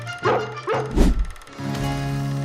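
Three quick yips in succession from newborn puppies, followed by a longer whine, close by, with a faint tonal background behind them.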